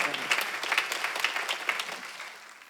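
A church congregation applauds during a Sunday worship service, a steady wash of many hands clapping at moderate volume that fades slightly toward the end.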